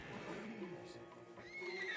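A horse whinnies in the Red Dead Redemption 2 video game as a stallion is led and tethered, the neigh rising over game ambience and faint hoof sounds, with talk around it.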